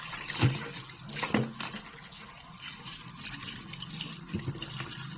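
Water runs from a tap while freshly picked sweet potato leaves are rinsed, a steady hiss of flowing water with a few louder splashes and handling sounds near the start and end, close and moderately loud.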